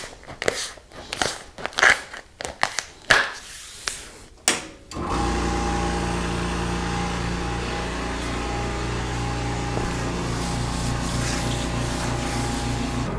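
A vacuum bag press runs steadily, drawing air out of a veneer bag over a curved walnut buffet top in a woodshop, a continuous close hum with a low pulsing drone, preceded by irregular crinkling and handling noises.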